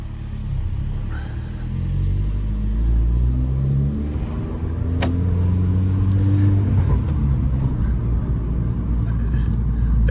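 A Fiat 500 Abarth drives along and accelerates, its engine rumbling loud and close from inside the cabin, rising in pitch through several gear changes over a steady drone, with no voices.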